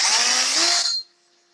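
A power drill turning a barrel crowning cutter whirs loudly and steadily for about a second, then stops abruptly, leaving a faint fading hum.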